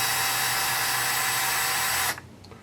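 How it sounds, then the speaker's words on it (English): A power drill driving screws whines steadily at high speed for about two seconds, then cuts off abruptly, leaving quiet room noise. "And this is where you're glad that you have power tools."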